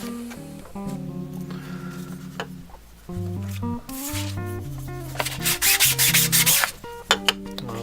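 A 3D-printed ABS or PLA part is sanded by hand with 400-grit sandpaper, giving close, uneven scratchy rubbing strokes that grow more rapid and louder toward the end.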